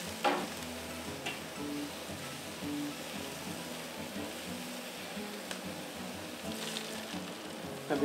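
Carne asada for fajitas sizzling on an outdoor grill over the fire, a steady crackling hiss that runs throughout with a few sharper pops, fairly close and not loud.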